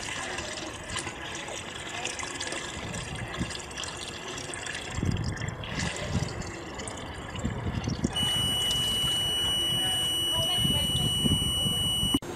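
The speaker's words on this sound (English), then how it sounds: "I'm starting feeding the polytank with the water again." Water pours steadily into a polytank under a water level controller, a continuous splashing trickle that thickens partway through, joined later by a thin steady electronic tone.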